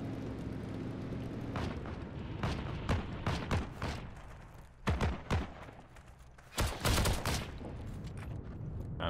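Semi-automatic G43 rifle fire in the online shooter Heroes and Generals, with sharp single shots in irregular bursts and clusters of rapid cracks, loud and close against a low rumbling battlefield background.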